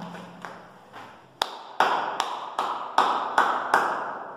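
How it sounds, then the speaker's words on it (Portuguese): A series of sharp hand claps, about ten, starting sparse and then falling into a steady rhythm, played as a clue in a children's treasure hunt in a cabin setting; close and distinct, with no talk over them. "Agora, um emoji batendo palma."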